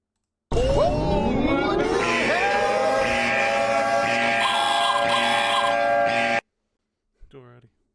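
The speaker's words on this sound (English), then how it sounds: "That's the raid alarm." The raid alarm in the online game Albion Online sounds: a loud, sustained electronic tone with rising sweeps, steady for about six seconds and then cut off, followed by a brief faint chirp.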